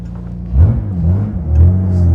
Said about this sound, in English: there is the wonderful sound from the straight six, which is absolutely lovely